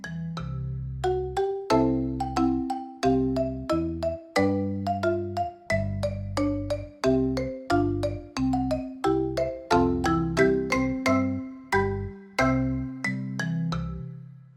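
A phone ringtone plays as a melodic, bell-like electronic tune of quick repeating notes, loud and close, running continuously with no voices over it.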